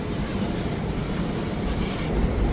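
Steady rumbling rail noise of AC train coaches rolling past close by, with a faint rhythmic clatter of wheels on track.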